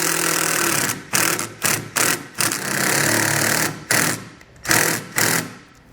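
Self-tapping screws driven by a power driver into a base plate bracket on a 2012 Fiat 500, in repeated short bursts of motor whine separated by brief pauses, close and loud.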